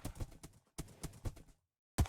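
Horse hooves pounding in a fast gallop within a video game, the invulnerable saddled horse's rapid thuds coming in quick bursts close to the mic, a short pause, then another loud impact.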